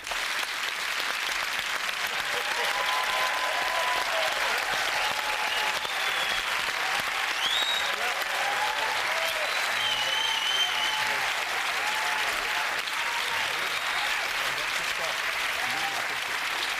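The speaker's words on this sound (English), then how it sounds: "That's a lot of applause." Studio audience at a British sports comedy panel show applauding the arrival of a mystery guest, a steady, loud wash of clapping that holds evenly throughout with no pause, cheers faintly mixed in.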